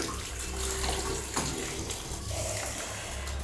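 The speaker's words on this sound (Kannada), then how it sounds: "ನಾನು ಬಿಸಿ ನೀರು ತಿರ್ಸ್ಬಿಟ್ಟಿದ್ದೀನಿ." Hot water gushes steadily from a household tap in a kitchen, a continuous broadband splashing rush that stays at an even level throughout, with no voices over it.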